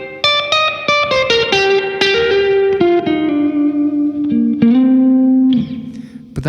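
Electric guitar picked in a quick run of single notes and chords, each with bright attacks and a lingering reverb tail, ending on a held note; played alone with no voices.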